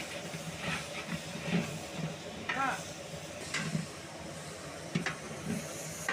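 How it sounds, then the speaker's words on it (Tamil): Large batch of carrots and beans sautéing in oil for wedding-style khichdi, a soft sizzle and hiss with intermittent stirring clatter, faint and somewhat distant, with a voice murmuring at times. "இப்போ நல்லா வதக்குங்க எண்ணெயிலே"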